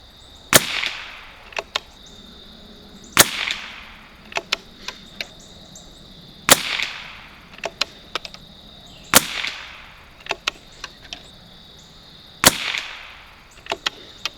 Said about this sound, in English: we're going to start on our 5-shot groups